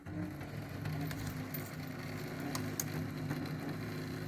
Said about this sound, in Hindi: उसमें फ़ैन में बहुत सारे नॉइज़ आ रही है